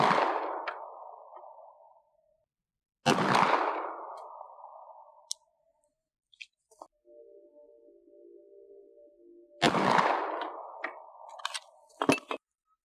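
Three sharp .40 S&W gunshots, 165-grain full metal jacket rounds fired at a 50-meter target, each a loud abrupt crack with a ringing decay, spaced a few seconds apart, with faint metallic clinks and a brief low hum between them.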